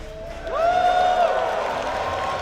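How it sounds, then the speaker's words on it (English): A Dota esports arena crowd at ESL One Birmingham 2024 cheers for Falcons, swelling suddenly into a loud, sustained roar of voices with rising whoops that holds steady to the end. "Who's here cheering for Falcons right now?"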